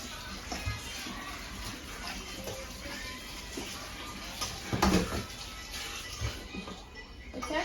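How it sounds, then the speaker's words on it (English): Potatoes being washed under a running kitchen tap before being cut for frying, a steady hiss of flowing water with faint splashing and clatter, fairly quiet and close. "So make sure you wash your potatoes."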